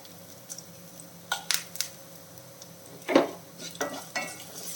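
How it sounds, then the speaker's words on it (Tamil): Snake gourd and dried red chillies are stirred in a frying pan. Soft, irregular spatula scrapes and clinks sound over a faint, low background sizzle, close and fairly quiet. "கிளறி விட்டுப்போம். ரெண்டு காஞ்ச மிளகாய் சேர்த்துடலாம்."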